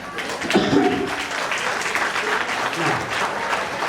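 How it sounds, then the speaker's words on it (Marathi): Wedding guests clap to welcome the couple during the kumkum tilak ceremony, a steady crowd applause with voices mixed in over nearly four seconds. "आपण सगळ्यांनी टाळ्या वाजवून त्यांचं स्वागत करायचे"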